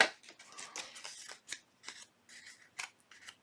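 A cracked, worn corner rounder punches paper corners while making junk journal envelopes, producing a series of crisp, close snipping crunches at an uneven pace with short pauses between them.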